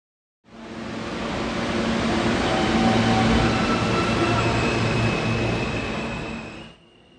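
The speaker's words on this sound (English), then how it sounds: "This is a Broad Street-bound M train via the J line." R160 New York subway train running as a Broad Street-bound M train on the J line, a loud rumbling roar that swells in, holds steady with faint wheel squeal, then cuts off.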